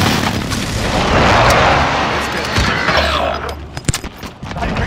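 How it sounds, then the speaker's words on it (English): A flashbang grenade detonates in an online multiplayer shooter game, a loud broad blast sustained for a couple of seconds, followed by scattered sharp cracks and game noise. "Be advised. Using flashbang."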